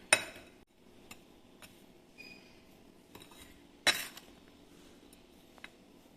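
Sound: mixing dough ingredients in a bowl

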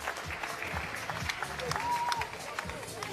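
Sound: applause at a boxing event

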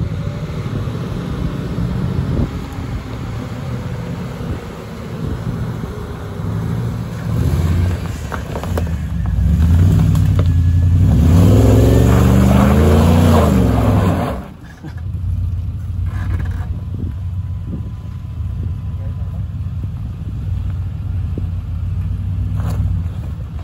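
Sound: supercharged V8 Range Rover L322 engine driving through a corner

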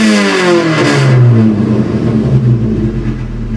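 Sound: car engine revving after modification

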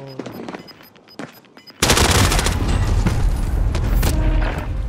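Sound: gunfire in Call of Duty Modern Warfare video game

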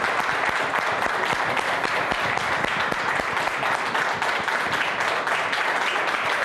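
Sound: studio audience applause welcoming a TV guest

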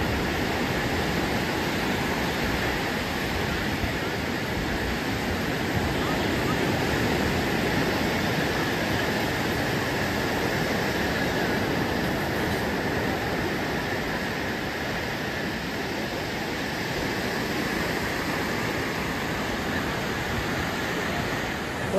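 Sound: sea waves at Juhu beach at night, tide coming in

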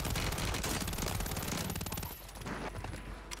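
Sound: gunfire in Call of Duty Warzone video game

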